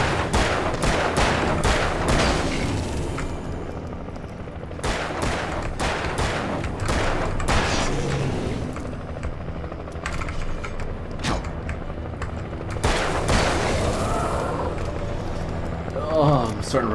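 Rapid bursts of gunfire in the horror action game Alan Wake, sharp shots fired in quick clusters with mechanical clicks and creaks between volleys, loud and close throughout.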